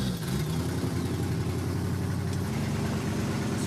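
A hotwired tow truck's engine runs at a steady low idle, close and continuous, with no talk.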